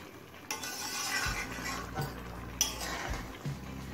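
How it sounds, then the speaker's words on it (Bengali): Mixed vegetables being stirred in a pot for navaratna pulao, with a spoon scraping and knocking against the metal in several irregular strokes over a faint sizzle. "সমস্ত সবজি দিয়ে মিশিয়ে নিয়েছি।"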